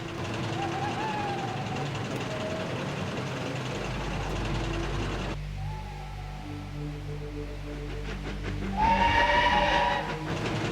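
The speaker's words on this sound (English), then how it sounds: "the hoarse puffing and deep whistle of a steam engine can be heard rumbling through" A steam engine's deep whistle sounds twice over a low, steady chuffing rumble, the second blast louder and closer near the end.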